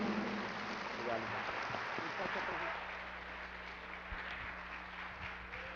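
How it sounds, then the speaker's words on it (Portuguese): Church congregation applauding during a Pentecostal-style service in Brazil, a dense wash of clapping that fades slightly midway, with voices and background sound mixed underneath. "Vamos receber o homem de Deus aplaudindo ao Senhor Jesus com muita alegria."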